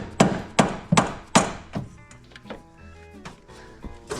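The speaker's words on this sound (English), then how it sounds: "let me get the rubber hammer" Rubber hammer striking something firmly, four loud close thumps in quick succession followed by softer, scattered knocks and handling noise.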